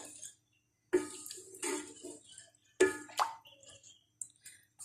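Water poured into a pot of soaked rice in a home kitchen, a few short splashing pours and plops separated by quiet gaps, faint and close.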